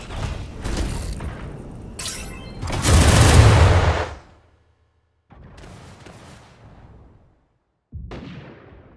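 Bursts of rapid gunfire from the mecha combat game Super Mecha Champions, one loud sustained volley followed by shorter bursts separated by silence.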